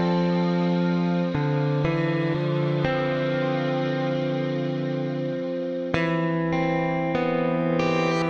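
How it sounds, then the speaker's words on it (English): Shimmer layer of multi-sampled electric guitar tones from the Modus & Forma instrument: sustained, chorus-laden chords with sparkling upper harmonics, changing pitch every second or so and ringing out in a smooth, continuous wash. "A shimmer layer with many authentic multi-sample shimmer sounds."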